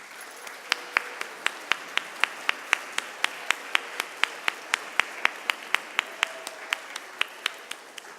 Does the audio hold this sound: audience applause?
yes